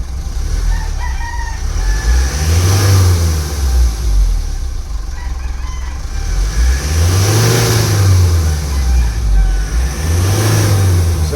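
A fully electronic Mitsubishi 4P10 engine revs up and falls back in three distinct blips over a steady running drone. The sound is close and fairly loud, with no speech.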